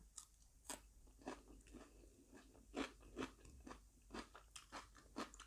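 Fermented bilimbi fruit is bitten and chewed close up, giving a quiet string of wet crunches and squelchy bites in an irregular rhythm.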